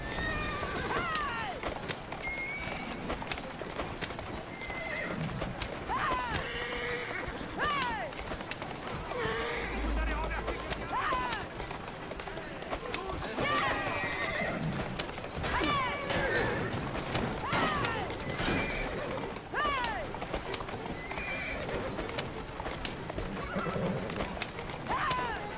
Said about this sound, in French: Je suis en train de fatiguer le cheval à fond, quoi.